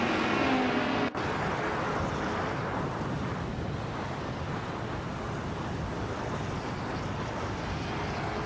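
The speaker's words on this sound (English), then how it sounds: "Cloudy's driving a 1966 Ford Fairlane, a classic muscle car" A 1966 Ford Fairlane classic muscle car races in a video game. It produces a steady, dense engine roar with rushing wind noise that holds constant throughout, after a brief dip near the start.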